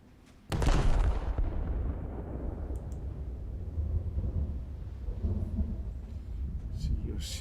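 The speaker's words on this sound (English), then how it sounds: "Shells coming in." Incoming naval artillery shells in War Thunder land with one sudden heavy boom, then a long rolling rumble of splashes and distant thuds that fades slowly.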